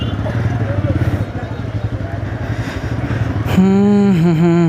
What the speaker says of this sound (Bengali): এক্সস্টের সাউন্ডও ভালো আছে